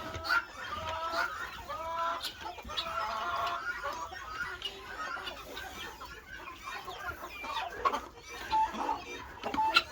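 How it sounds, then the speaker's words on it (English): Guinea fowl calling as they gather to eat corn scattered on snowy ground, a busy overlapping chatter of clucks and short cries from several birds, fairly close, continuing steadily throughout. "Some guineas will come up here, start eating."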